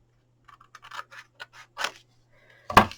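Scissors cutting paper while a mask holder is being made: a run of small crisp snips and scratchy rustles, then a louder sharp cut at the end, close and with no voices.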